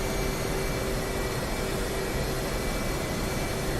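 F/A-18 Hornet jet engine in DCS World spooling up on a carrier catapult, a loud, steady roar with a constant whine layered over broadband rumble, held close and unchanging throughout.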